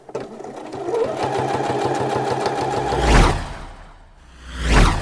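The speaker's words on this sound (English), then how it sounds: "so now we do a line of stitching along this shoulder seam here and along here" A sewing machine runs steadily while stitching a shirt shoulder seam, a fast even mechanical patter that lasts a few seconds, followed by fabric whooshes as the cloth is moved.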